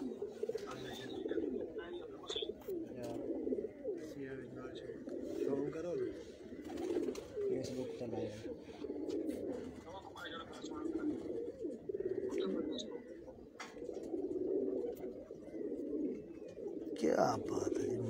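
Domestic pigeons coo steadily in soft, rolling murmurs from a rooftop loft, several birds overlapping at close range throughout, with occasional faint chirps.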